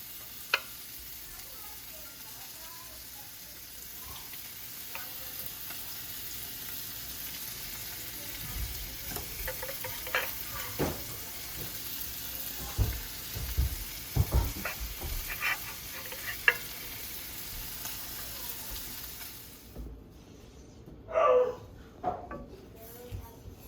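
Eggs cooking in melted butter in a pan, with a steady soft sizzle running under scattered clinks and stirring, a dog barking several times, and a brief quieter stretch near the end.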